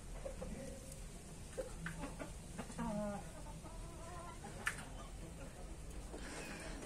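Native hens in a backyard cage cluck in scattered, fairly faint bursts over a steady background hum, with a sharp knock partway through.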